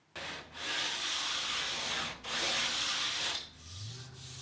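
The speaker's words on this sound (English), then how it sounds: "sandpaper adhered to a piece of flexible scrap wood" Hand sanding a cherry bed rail with sandpaper stuck to a flexible scrap-wood block, two long steady rasping strokes then a shorter one, close and clear with no voices.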